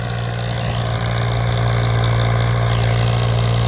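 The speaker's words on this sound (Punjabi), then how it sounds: "ਪੀਡੀਸੀ ਦਾ ਸੁਪਰ ਸੀਟਰ ਹੈ 3 ਸਪੀਡ ਟਰੈਕਟਰ ਹੈ 55 ਦਾ ਹੌਲੈਂਡ" A New Holland 5500 three-speed tractor runs a PDC super seeder, its diesel engine giving a steady, loud, continuous hum with a strong low drone and mechanical rattle, unbroken throughout.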